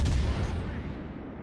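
Naval guns from ships in World of Warships: Legends fire in a loud, deep, booming salvo at the start, with the rumble decaying over the next second.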